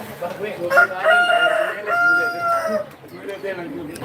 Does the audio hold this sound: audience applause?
no